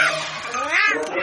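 A cartoon cat lets out a drawn-out, wavering meow, close and fairly loud, lasting about a second.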